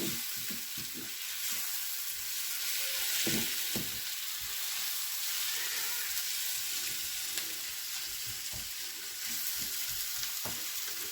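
An eggplant mixture sizzles in a pan while being stirred, steady frying hiss with a series of soft low thumps and scrapes from the utensil, close and without talk.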